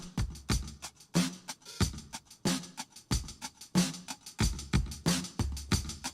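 A steady drum loop plays with punchy kicks and snares while the hi-hat opens and washes out, giving a swelling, breathy cymbal texture between hits.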